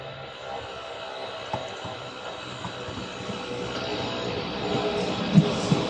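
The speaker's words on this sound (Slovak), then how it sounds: "Zvuk vzniká zábermi ozubeného kola do ozubnicového pásu počas jazdy." Rack railway train on a steep Budapest line running as tram route 60, its cog wheel meshing with the rack strip during the ride; a steady rumbling, grinding drone carries throughout, with a few sharper knocks near the end and no talking.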